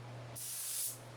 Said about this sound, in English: And here we go with the second coat of clear.